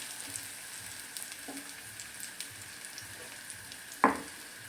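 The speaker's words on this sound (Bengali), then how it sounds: "এবার আমি ডিমের মিশ্রণটা এর মধ্যে ঢেলে দিচ্ছি" Beaten egg mixture for a masala omelette sizzles in a frying pan, a faint, steady crackle with a single brief clatter near the end.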